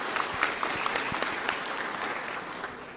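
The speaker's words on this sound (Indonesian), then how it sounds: "Kita beri tepuk tangan untuk mereka semua." Sustained applause from a church congregation at a Catholic ordination of priests and deacons, a dense steady patter of many hands filling the space, fairly distant and even throughout.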